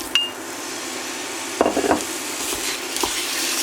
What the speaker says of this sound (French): Là, on la met à chauffer et ensuite on y verse la viande.